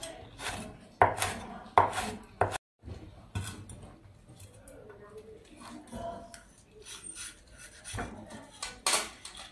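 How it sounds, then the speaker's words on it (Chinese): Knife cutting peppers into small triangles on a board, with a run of close, uneven chops and taps, some louder strikes early on and softer cutting and scraping afterward. "把里面的籽拿掉， 切成小三角"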